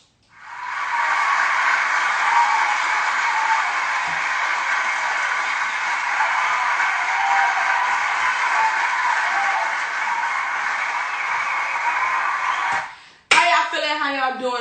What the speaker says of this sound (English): Come on, hand clap, come on.